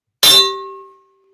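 A bright metallic notification bell strikes once and rings out with a clear sustained tone that fades over about a second.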